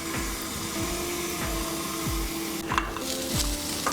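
Amaranth leaves frying in a pan give a steady sizzle with repeated scraping strokes from stirring, alongside a low rhythmic hum from a nearby appliance; no speech.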